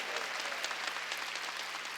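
A church congregation at a Wednesday worship service gives steady, full applause that carries on evenly throughout, with no voices over it.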